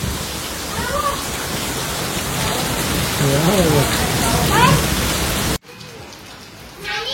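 Rain falls steadily on an evening during a Diwali power outage, a constant loud hiss with a few faint chirping tones over it before the sound abruptly cuts to quiet near the end.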